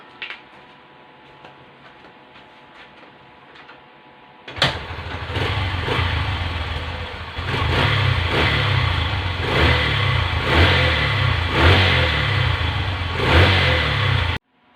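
A Honda CB125 motorcycle with an electrical fault is quiet at first, then its engine catches with a sudden loud start and runs and revs steadily and close up, growing louder partway through.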